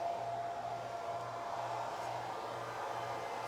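Hair dryer drying curly hair, a continuous airy blowing hum with a soft rhythmic pulsing as it moves over the head, fairly faint and steady, with no voices.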